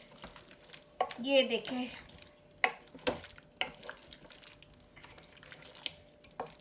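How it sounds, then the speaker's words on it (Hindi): Potatoes are stirred into spices in a pan for a spicy Kenya-style red potato dish, with scraping and light sizzling in short bursts while someone speaks briefly in Hindi. "और इसको हमने मिला लेना है अच्छी तरह से मसाले में।"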